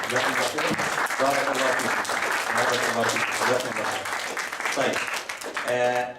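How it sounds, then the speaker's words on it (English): Audience applause at a youth talk, a loud sustained round of clapping filling the room, with a voice speaking over it near the end. "So can we just give them a round of applause?"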